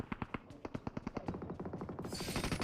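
Rapid automatic gunfire in the battle royale game BGMI rattles off in quick, evenly spaced bursts, fairly faint and with no talk over it.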